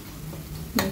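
Spices stirred into hot oil: asafoetida, turmeric and kasuri methi in a pan for lasuni palak, giving a soft sizzle with one brief scrape of the spoon near the end.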